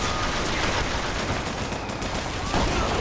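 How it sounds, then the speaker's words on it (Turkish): Gunfire in the Bioshock Infinite shooter on a zeppelin: dense, continuous shooting blurs into a loud, steady clatter with no clear gaps between shots. "Onları mı vuruyor, beni mi vuruyor?"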